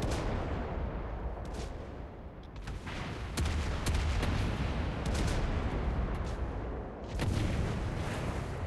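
Battleship main guns fire salvos in a naval combat game, heavy booming shots layered over a constant rumble of distant battle, with several sharp blasts across the stretch.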